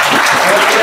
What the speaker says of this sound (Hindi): चलो इनके लिए तालियां होनी चाहिए।